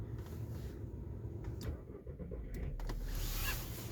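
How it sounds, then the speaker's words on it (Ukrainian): A Skoda Yeti with a 1.2 engine cranks and starts: a whirring starter burst followed by the engine catching into a steady, close idle, with a couple of sharp mechanical clicks along the way. "Ви чули, як машина сі завела?"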